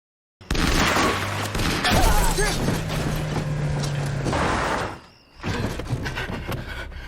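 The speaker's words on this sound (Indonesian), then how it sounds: "tim itu terus menembaki mereka berdua dari kejauhan" Gunfire in a film chase scene with a speedboat: a dense, loud burst of shots and mechanical clatter that drops out briefly, then resumes, with faint voices mixed underneath.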